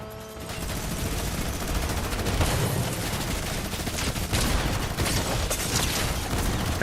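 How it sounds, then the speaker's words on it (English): A minigun firing in a video game, a continuous rapid rattle of gunfire with scattered louder bursts, sustained and fairly close throughout. "That minigun's right on me."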